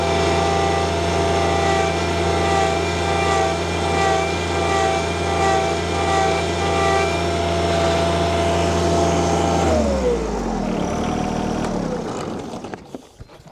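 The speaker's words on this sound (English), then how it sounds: "We're gonna crank up the RPMs on the John Deere." A John Deere tractor engine runs close and loud at raised, steady RPM for about ten seconds, then winds down and fades out as it slows.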